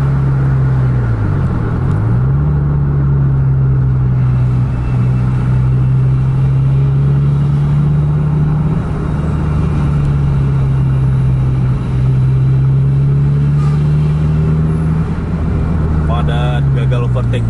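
A Scania intercity bus engine drones loud and steady under the cabin, its pitch rising and dipping as it revs hard during an attempted overtake of a rival bus, with a continuous low rumble throughout.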